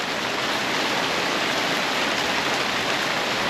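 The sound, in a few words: rain falling outdoors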